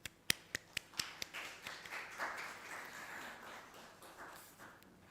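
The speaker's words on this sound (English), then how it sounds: "Please give them a huge round of applause." Applause at a conference on Nepali students in the UK: a few sharp, distinct claps ring out first, then spread into a quieter, softer patter of scattered clapping from the audience.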